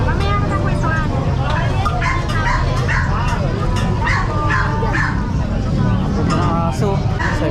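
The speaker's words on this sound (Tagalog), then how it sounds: "May mga magagandang aso dito." Several dogs bark and yip repeatedly at a busy pet market where Siberian Huskies, Chihuahuas, Golden Retrievers, Pomeranians, Beagles and Pugs are sold, sharp barks recurring over a constant crowd babble with voices talking nearby.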